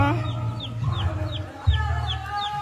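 Chickens cluck and ducks chatter nearby in a pen, with repeated short calls and a low hum underneath.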